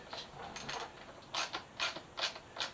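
A bolt is tightened on the air box of a Suzuki GSX-S 1000F motorcycle with a ratcheting tool, producing quiet close clicks and creaks in short repeated strokes.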